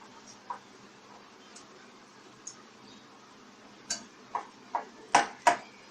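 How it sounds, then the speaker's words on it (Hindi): Custard powder and water beaten together in a bowl for Karachi halwa, giving sparse light clicks that become a quick run of sharper taps toward the end, fairly close and alone. "और अच्छे से इसको बीट करना है ताकि इसमें लम्प्स ना बने"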